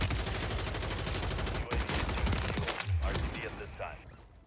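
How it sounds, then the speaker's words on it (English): Rapid automatic gunfire rattles in sustained bursts in the Warzone 3 game, loud and close, then breaks into scattered shots and fades as a voice talks over the later part. "that boy just be shooting"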